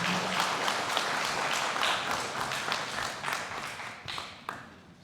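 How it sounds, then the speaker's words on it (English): Applause from the audience at a county Republican meet-the-candidates event, a moderate burst of clapping that slowly thins out into scattered claps. "how about another round of applause here for all of our county commission candidates"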